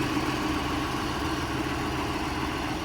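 A farm tractor idles steadily nearby on a sugar beet farm, a constant low mechanical rumble with a slight throb and no voices.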